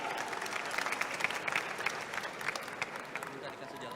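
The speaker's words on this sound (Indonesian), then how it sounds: "Tepuk tangan dulu dong" An audience at a busy public event applauds steadily, a dense wash of many hands clapping at moderate distance, faint and continuous throughout.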